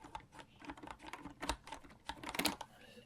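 Keyboard-style buttons on a Mixbox fight-game controller are pressed in quick irregular bursts of crisp, close clicks and taps, with a few sharper heavier presses among them.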